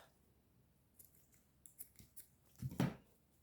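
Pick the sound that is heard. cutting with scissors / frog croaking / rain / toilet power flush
cutting with scissors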